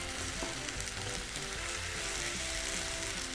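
Fenugreek leaves dropped into hot oil fry with a loud, steady, crackling sizzle that holds close and continuous, with no talk.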